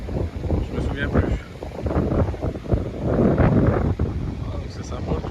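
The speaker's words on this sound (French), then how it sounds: "j'espère que le vent va pas trop faire chier encore une fois" Strong gusts buffet the microphone outdoors in a nature park, a loud, continuous low rumble that swells and dips throughout, with someone talking underneath it.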